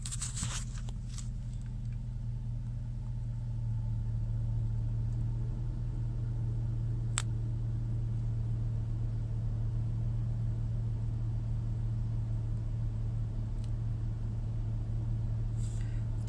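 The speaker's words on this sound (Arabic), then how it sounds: "هدوء المحرك وثبات الار بي ام." Close, steady low idle of a Chevrolet Silverado pickup engine after throttle body cleaning, a smooth even hum holding constant for the whole stretch, with a couple of faint ticks and clicks.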